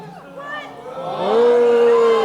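A crowd at a Halloween event boos, starting as scattered voices and rising into a sustained, sliding boo that holds loud and close.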